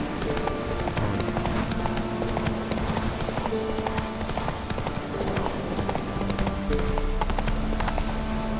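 Hoofbeats of Geralt's horse Roach clip-clop steadily in The Witcher 3: Wild Hunt, set among game music and ambient sound, with a brief voice and faint whinny-like tones.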